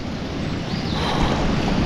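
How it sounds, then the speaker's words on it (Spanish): River water flowing into the lower part of an old mill, a steady rushing wash of flowing water with broad, constant noise that swells slightly, heard alone and fairly loud. "la parte de abajo del molino sigue entrándole agua del río"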